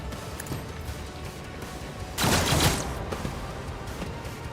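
A single short burst of gunfire in the Rogue Trader video game, loud against a constant low background of game ambience.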